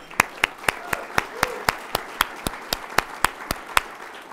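Applause at an awards ceremony, sounding like a single person clapping steadily and evenly, with sharp isolated claps about every quarter second over a quiet room.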